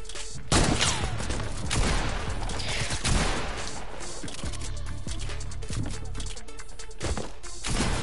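Dense, continuous crackle of rapid gunshots and bursts of fire, loud and close, with sharp cracks throughout and a steady background mixed in.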